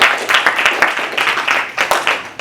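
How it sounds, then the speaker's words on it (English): Close, loud audience clapping at an awards celebration, in quick uneven bursts, like a small group applauding together for a couple of seconds. "so give yourselves a round of applause."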